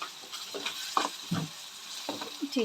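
Ginger garlic paste frying in a pan for chicken curry, a quiet sizzle broken by scattered stirring scrapes and soft knocks of a spoon.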